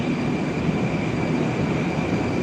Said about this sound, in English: Yes, I'm in the subway, Moscow Metro.